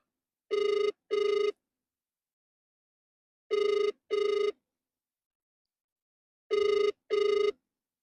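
A telephone rings unanswered in three paired bursts separated by silence, clear and close, with no one answering or speaking.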